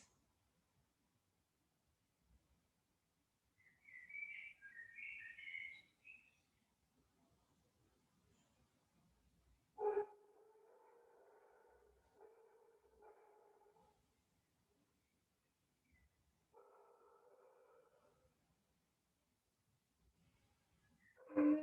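Dogs barking outside during a quiet yoga class, faint and distant, coming in two short bursts of repeated barks separated by silence, with a brief higher chirping sound earlier on.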